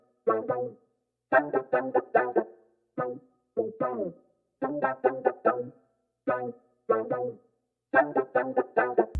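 A synthesizer from the Arturia Arcade Honey Ghost Mode preset plays an F5 counter-melody for a dark R&B beat, with short stuttering vocal-like chopped notes in choppy rhythmic bursts separated by silent gaps, processed with distortion.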